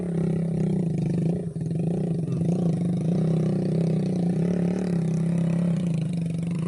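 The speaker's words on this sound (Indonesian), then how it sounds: "bisa kita dengarkan kendaraan motor tersebut" A motorcycle loaded with potatoes rides along a hillside farm road, its mid-pitched engine droning steadily and fairly close throughout, with no speech over it.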